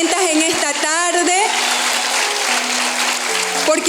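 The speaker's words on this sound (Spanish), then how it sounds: "Y yo creo que nuestro Señor se merece un aplauso mucho más fuerte" A church congregation breaks into loud, sustained applause during a Spanish-language sermon. The applause starts under the preacher's speaking voice and then continues alone as a dense, even clatter.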